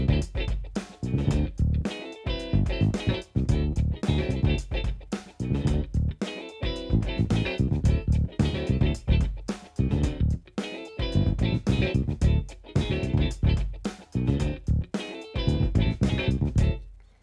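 Funk bass line, busy eighth-note pattern driving along with a full band groove, steady and loud throughout.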